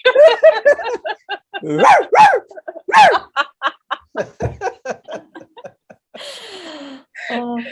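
People imitate dog barking in a rapid string of yips and woofs, loud and close, with a brief higher squeal near the end.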